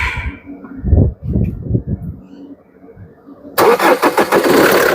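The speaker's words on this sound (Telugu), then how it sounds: "సింగిల్ సెల్ఫ్లో బండి స్టార్ట్ అవుతుంది సార్." A 2017 Maruti Brezza ZDI+ diesel car engine cranks and catches on the first try, then settles into a loud, rough, rattling idle close by.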